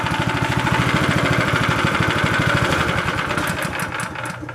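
A Honda GX160 small engine runs at a steady idle after a cylinder head gasket replacement, a loud, even, rapid chugging that continues throughout and eases slightly at the end.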